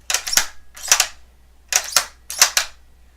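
A Ruger American .308 bolt-action rifle being cycled four times, each a crisp, close metallic clack-clack of the bolt opening and closing, separated by short pauses in a quiet room.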